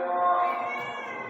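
A hungry house cat meows in one drawn-out, insistent call, close and fairly loud, with no talking over it.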